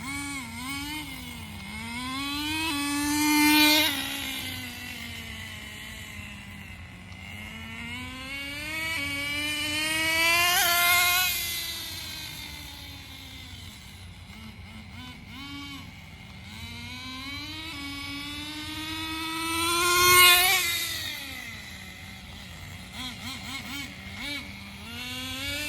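A Traxxas 4Tec RC car fitted with a new transmission clutch drives back and forth, its electric motor whining up and down in pitch as it passes near, then fades, three distinct runs with no talk.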